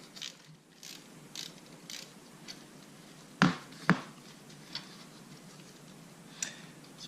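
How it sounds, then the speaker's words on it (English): A 10mm box wrench loosening a bolt during a car oil change, with soft repeated ratchet-like ticks and two sharp metallic clanks close by, in a quiet setting. "What I have here is a 10mm box, and I'm going to remove the bolt."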